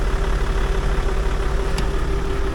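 A car engine idling steadily at close range, a continuous low hum with an even tone and no voices, running on before being switched off.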